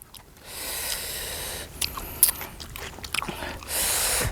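Someone chewing a mouthful of spicy cuttlefish salad with hot dog, with close, wet crunching and biting bursts spread over a few seconds and a louder rustle near the end.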